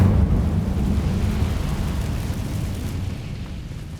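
Incendio fire spell blasting in Hogwarts Legacy, a loud, sustained rumbling roar of fiery explosion that fills the whole clip and slowly fades toward the end.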